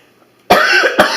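A person coughs twice in quick succession, a loud harsh burst followed by a shorter second cough, close up against an otherwise quiet room.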